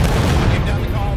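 A dense burst of musket volleys from a Civil War infantry line in War of Rights, overlapping booming cracks that roll continuously with no gaps.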